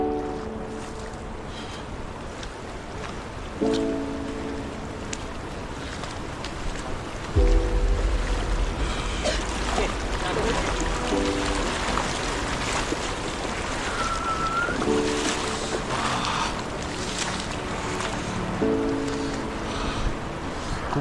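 A glacier meltwater stream runs downhill in snowy mountains on a high-altitude trek, making a continuous broad rushing wash that stays steady and full throughout, with faint low tones drifting underneath.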